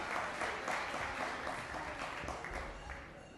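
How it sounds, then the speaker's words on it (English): Steady applause from a Hall of Fame induction audience as a speaker walks to the stage, dense clapping that holds evenly and tapers slightly toward the end. "let's give her a round of applause as she comes to the stage"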